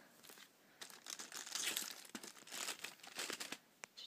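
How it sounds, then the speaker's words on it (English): Thin advent calendar foil is torn and crinkled open close up, a continuous dry crackling and ripping that swells and fades over several seconds. "I always seem to open the foil."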